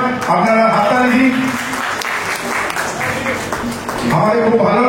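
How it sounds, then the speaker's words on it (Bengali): Audience applause at a jatra opera auspicious opening ceremony, a broad crowd patter running throughout while someone speaks over it on a microphone. "আপনারা হাততালি দিন"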